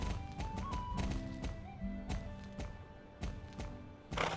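A pony's hoofbeats while riding in the Star Stable video game: a close, steady clip-clop of hooves on hard ground at a walking rhythm, with a brief whinny-like tone early on.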